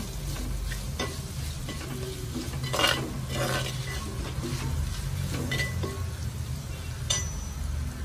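Chopped small shallots, about 200 grams, sizzle steadily in a pan while being stirred, with occasional utensil clinks against the pan over a constant close frying hiss.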